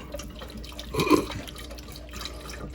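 Liquid poured into a mixture while making squid ink cannelloni, a brief soft splash and trickle in a kitchen, fairly quiet and over almost at once.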